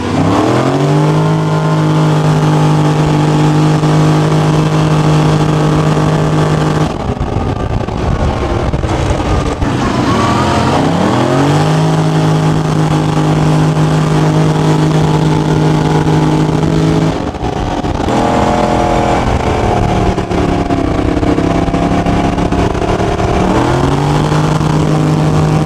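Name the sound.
car engine accelerating during a race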